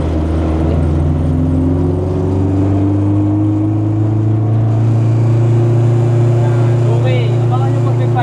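Honda Civic EG hatchback with a B20 DOHC VTEC engine revving from inside the car, a steady loud drone with rising engine tones and a faint whine riding over it.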